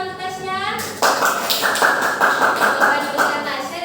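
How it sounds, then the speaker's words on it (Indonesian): A classroom of students applauds a classmate, steady clapping starting abruptly after a moment of quiet and continuing with a dense, even rhythm, fairly close and loud throughout. "Beri tepuk tangan untuk Tasya."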